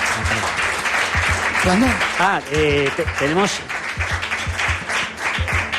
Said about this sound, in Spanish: Pido un aplauso para González Gómez García.